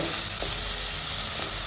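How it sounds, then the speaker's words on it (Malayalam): Onions, ginger and green chilli stirred in a hot pan: a continuous close sizzle of frying with soft scraping strokes of the spoon, no voices. "ഇഞ്ചിയും പച്ചമുളകൊന്നും കൂടുതൽ മൂത്ത് വരാൻ വേണ്ടി ഇരിക്കണ്ട, നല്ലപോലെ ഇളക്കി കൊടുക്കണം."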